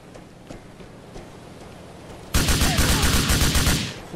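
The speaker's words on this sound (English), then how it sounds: "Who the hell's shooting?" Rapid automatic gunfire in Grand Theft Auto IV, a loud, fast burst of repeated shots erupting suddenly after a quiet stretch with faint background noise.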